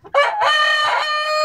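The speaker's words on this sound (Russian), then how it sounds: "Вот мой петушок." A Mechelen cuckoo rooster crows once up close, giving a loud, strained call that rises, wavers and holds for over a second.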